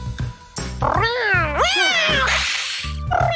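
A cat meows several times, drawn-out and pitch-bending, close and loud over a busy background of low rhythmic thumps, with no talk.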